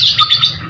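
Pet Australian parrots give a short burst of shrill, close squawks and chirps, loud and alone.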